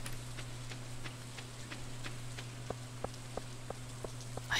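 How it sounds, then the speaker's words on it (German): Soft rain patters in the video game Stardew Valley, faint ticking drops over a low steady hum, with a few sharper regular taps near the end. "Ich finde es auch so schön, wenn es hier so regnet."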